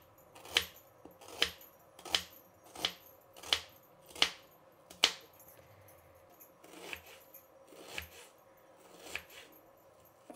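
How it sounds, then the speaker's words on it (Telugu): An onion being finely chopped with a knife on a board gives sharp, evenly spaced cuts, about seven crisp strikes followed by a few softer, slower ones, close and alone in a quiet kitchen. "ఇలా సన్నగా పొడి పొడిగా కట్ చేసుకోవాలండి"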